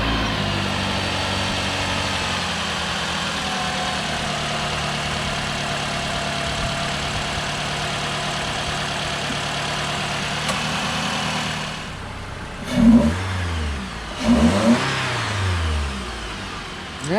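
Car engine fitted with a K&N cold air intake idles steadily and loudly for a long stretch, then gets two quick revs that rise and fall near the end.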